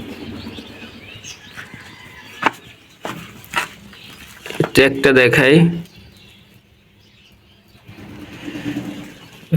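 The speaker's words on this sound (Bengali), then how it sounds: "এই যে একটা কবুতর," Racing pigeons in a home loft give short chirps and coos, with a brief burst of fluttering calls in the middle, heard close by under someone talking.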